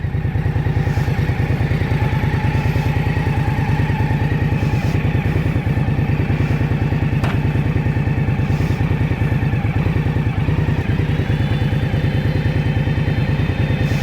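Indian Scout Rogue motorcycle, liquid-cooled, cruising up a highway: steady loud engine drone with a dense low pulsing throb and wind rush, continuous throughout with no talk.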